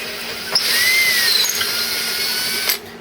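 Electric power drill boring a 25/64-inch tuner hole through a varnished guitar headstock, a steady close whine that starts sharply, holds for about two seconds and then cuts off, with no talking.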